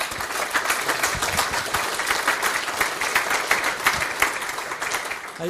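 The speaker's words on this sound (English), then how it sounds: "I would like to really ask an applause." Sustained applause from an audience at a farewell event, dense overlapping claps filling the space evenly from start to finish, no voices on top.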